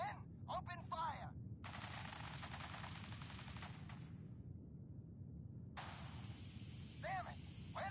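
Bursts of automatic gunfire from men opening fire in a video game, two sustained volleys of rapid shots separated by a brief lull, loud and close over a steady low rumble, with a few short voice fragments in between.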